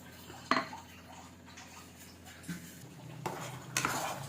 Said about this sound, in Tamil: அதை ஊற்றிட்டு அப்படியே கைவிடாமல் கிளறிக்கிட்டே இருக்கணும்